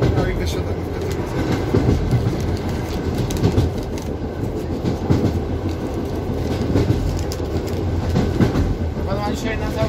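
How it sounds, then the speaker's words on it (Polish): A train rolls past at close range at the ZNTKiM Gdańsk rail works, its wheels giving a steady rumble and clatter for the whole stretch while people talk over the noise. "jakiej stacji jedzie ten pociąg?"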